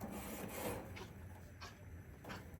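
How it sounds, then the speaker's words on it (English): A grill scrubber scrapes across a hot grill grate in quiet, rhythmic strokes, four soft rasping passes spaced roughly evenly over a low background. "Got my grill scrubber."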